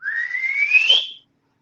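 A man whistles to imitate a loud whistle heard in the woods, a single clear whistled note that glides steadily upward from low to high for about a second and then ends in silence.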